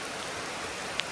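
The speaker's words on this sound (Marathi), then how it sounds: "मस्त पाऊस आलाय" Steady rain falling over Konkan farmland near Lanja, Ratnagiri, where ploughing is under way: a soft, even hiss of fine drops, fairly faint and uniform, with one brief tick near the end.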